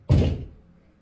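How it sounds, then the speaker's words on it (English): A single heavy thud of a kick against a door, loud and close, with a short dull boom that decays quickly into quiet. "You hear them kicking on my door, right?"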